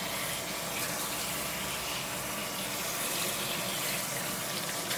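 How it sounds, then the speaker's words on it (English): Water running from a tap while braided hair is wetted down for washing, a steady, soft, continuous splashing stream, close and fairly quiet, with no talking. "now I'm just going to wet the hair down just like you would do a normal shampoo"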